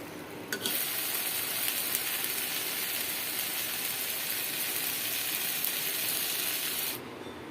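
Taro leaves frying in a pan while being stirred, giving a steady, close broadband sizzle that runs evenly for about six seconds and then stops abruptly near the end.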